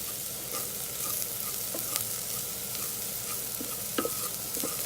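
Chopped onion fries in oil inside an Instant Pot, a steady close sizzle with occasional clicks and scrapes from a spoon stirring it against the inner pot.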